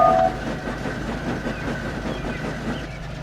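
A steam engine, Henry, rolls past on the rails with a faint whistle at the start, then a steady rumble and clatter of wheels at moderate distance.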